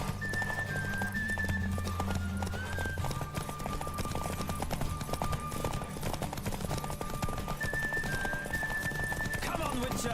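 Galloping horse in The Witcher 3 racing, a fast steady drumming of hooves running through the whole span beneath game music, with a brief whinny-like flourish near the end.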